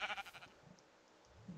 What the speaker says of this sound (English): Hey, come here, sheep.